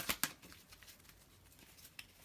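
Tarot cards being shuffled by hand, with two crisp riffling snaps at the start followed by softer scattered card rustles and a final light flick, close and quiet.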